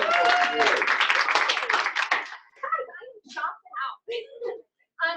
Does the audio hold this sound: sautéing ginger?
no